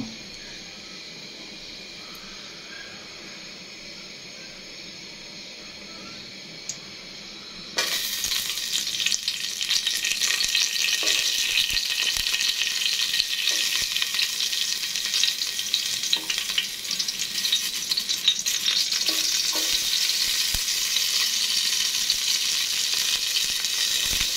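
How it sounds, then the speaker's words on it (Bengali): Oil poured into a hot pot for pulao bursts into a loud, continuous sizzle after a quieter lead-in, a steady frying hiss with a few small clinks, no voices. "পাতিল গরম হয়ে গেছে, এর মধ্যে তেল দিয়ে দিব"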